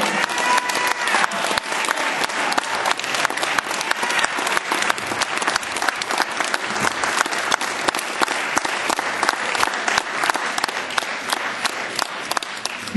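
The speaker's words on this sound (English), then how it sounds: "I want you to give a big round of applause for his angel, Mrs. Shuttlesworth." A large audience gives a sustained, loud round of applause at a cultural gathering, dense clapping continuing evenly with no pause.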